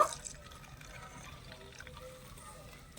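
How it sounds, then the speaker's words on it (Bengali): Boiled milk is poured into a mixture of mango pulp and yogurt, producing a soft, continuous liquid gurgle and trickle that starts with a brief splash and runs quietly throughout. "এবারে জাল করে রাখা দুধটা আমি ঢেলে দেব"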